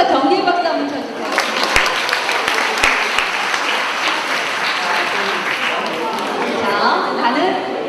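Loud, sustained applause from an audience at a family movement event, a thick, even roar of many hands clapping that fills the room for several seconds, with some chatter mixed in.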